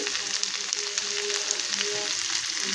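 Chicken pieces for a chicken fry sizzle steadily in a pan, a soft, even crackle with faint pops and no talking.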